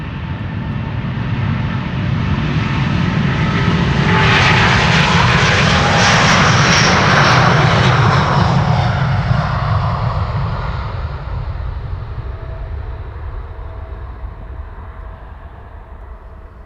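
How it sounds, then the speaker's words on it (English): A Delta Airlines Airbus A330neo jet, a brand-new airliner, roars on its departure toward New York; the loud engine rush swells over several seconds and then slowly fades as it climbs away, with no voices. "This is Delta Airlines flight 49 to New York JFK. A330neo."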